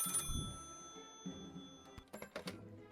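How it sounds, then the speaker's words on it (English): Short bursts of a telephone ring from the game Lil' Guardsman, fairly faint and choppy near the end, over quiet background tones. "Phone is ringing."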